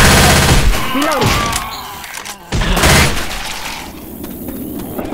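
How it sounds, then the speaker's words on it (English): Bursts of rapid gunfire and heavy thuds fill a zombie shooter game, Left 4 Dead 2, set in a park, loud and close, with a brief lull before the shooting resumes. "Stop shooting each other."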